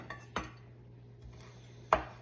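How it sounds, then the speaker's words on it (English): Parsley is chopped with a knife on a board for an egg sandwich, giving a few sharp, separate taps over a faint steady kitchen hum. "Chopping up some parsley here."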